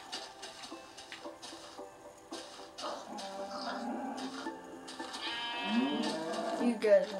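Minecraft sheep bleat in a pen while someone talks over them, coaxing the animals along; the wavering bleats grow louder and more frequent toward the end, close and overlapping with his voice.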